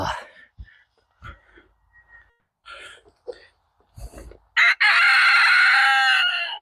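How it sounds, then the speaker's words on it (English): A rooster on a farm crows loudly and close by in one long, ringing call, preceded by scattered clucks, rustles and brief bursts of noise. "thank you, chicken. Right in my ear."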